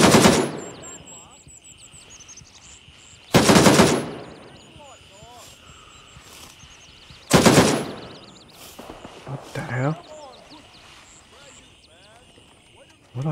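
Loud bursts of automatic gunfire from the video game Gray Zone Warfare, with two sharp volleys and scattered shots further off. Someone talks between the bursts.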